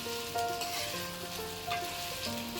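Country chicken curry simmering in a pot until the water from the meat evaporates, giving a steady, close bubbling sizzle throughout with faint stirring or utensil sounds and no talk.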